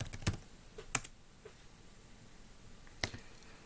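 A handful of sparse, faint keystrokes on a computer keyboard in a quiet room, with a few isolated clicks spread out and long pauses between them.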